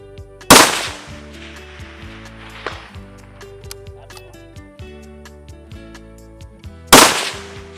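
Two sharp, loud rifle reports from a Tikka T3X in .260 Rem on an Australian long-range range, one near the start and one near the end, each with a short decaying tail and quiet ticks between.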